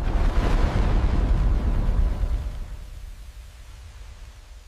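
A rocket launch roars as a loud, broad rumble for about two seconds, then thins and fades into a fainter, distant rush with no talking over it.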